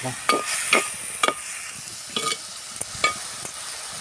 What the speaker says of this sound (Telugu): టమాటా ముక్కలు వేసుకొని చక్కగా కలుపుకోవాలి